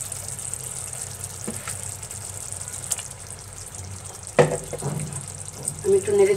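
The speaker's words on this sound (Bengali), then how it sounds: "এখন আমি এর মধ্যে 250 গ্রাম ট্যাংরা মাছ নিয়েছি। দেখেন, এই মাছগুলো এখন এর মধ্যে ছেড়ে দেব।" Tangra fish go into a pan of sizzling, fried spices for a Bengali curry, giving a sudden splash and crackle over a steady frying hiss, with a voice speaking briefly near the end.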